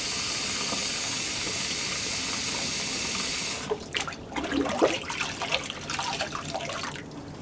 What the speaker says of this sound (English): So the sink is up and running.